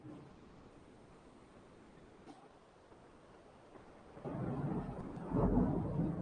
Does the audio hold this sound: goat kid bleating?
no